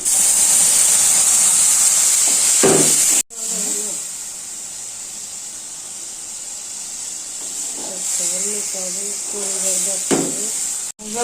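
Spice paste poured into hot oil with fried onions and green chillies gives a loud, continuous hissing sizzle close up, briefly cutting out near the start and then resuming, with a faint voice underneath.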